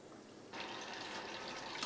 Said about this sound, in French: une fois qu'elle est bien panée, comme ça, on la plonge délicatement en cuisson.